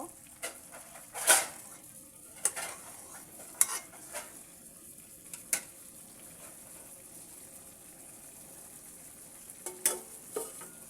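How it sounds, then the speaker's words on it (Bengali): Rohu fish with potato and tomato frying in a covered pan, a low steady sizzle broken by a few sharp clinks and scrapes, no voices. "মাছগুলো আমি কিছুক্ষণের জন্য ঢেকে রান্না করব"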